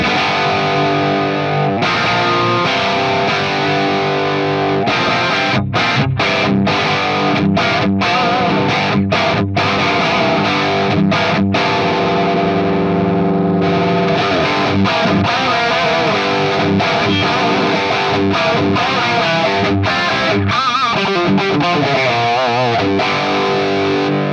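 Distorted electric guitar through a Marshall 1987 amp model in jump mode, crunchy amp tone, strummed chords and choppy stops, loud and continuous.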